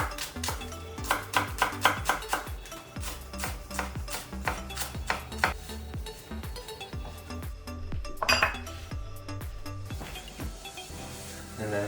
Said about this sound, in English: If you think you need more onion, you can cut more. So, green onion.